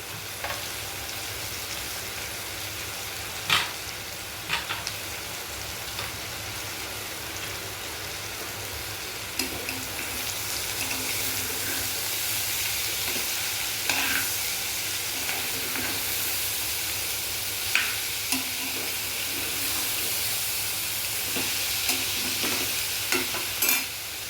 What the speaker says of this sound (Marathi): सोडलं ना की त्याला असं गुलाबी जरा कलर झालं की कांदा घालायचा त्यात. कांदा बी त्यात भाजून देतो चांगला.